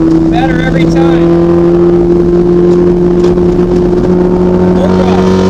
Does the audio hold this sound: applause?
no